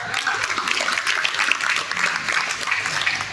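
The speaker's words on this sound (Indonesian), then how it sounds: "Tepuk tangan buat ketua" A dense, steady round of audience applause for the chairman at a regional PAN party meeting and installation ceremony in Sidoarjo. The clapping holds at an even, loud level throughout.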